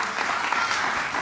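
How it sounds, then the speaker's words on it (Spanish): A brief burst of audience clapping breaks out on a television program featuring families in traditional Aragonese dress, a short, steady patter of applause. "Un aplauso, por Dios."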